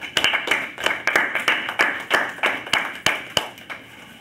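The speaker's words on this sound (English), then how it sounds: "Please give her a round of applause" A round of applause follows a presentation, with many hands clapping in a steady, moderately loud patter and sharper individual claps standing out at a regular pace throughout.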